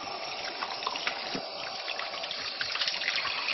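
Tap water runs steadily into a sink while someone gets ready to shave with a brush and shaving soap, a close, continuous splashing hiss with small spatters and no voices.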